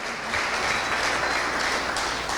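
Congregation clapping inside a church during a sermon, a steady dense wash of hands filling the room, fairly loud and continuous with no voices over it.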